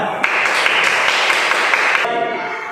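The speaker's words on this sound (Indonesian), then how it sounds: "berikan tepuk tangan" Applause from a crowd, steady and full for about two seconds, then dying away into quieter room noise.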